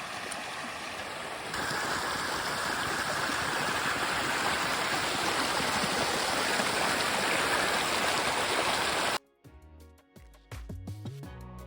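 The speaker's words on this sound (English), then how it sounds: "that is a spring feeding this creek." A spring-fed mountain creek flows with a steady, full rushing and gurgling close by for about nine seconds, then cuts off abruptly into quieter, different sounds.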